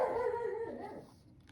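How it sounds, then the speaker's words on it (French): A pet dog gives a drawn-out whimpering whine that falls in pitch and fades over about a second and a half, close and fairly soft, with no talking. "Comme toujours, c'est mon chien."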